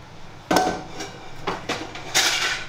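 A cooking basin picked up and handled in a home kitchen while making chili, giving a few separate hard clanks and knocks, sharp and close, spaced over a couple of seconds.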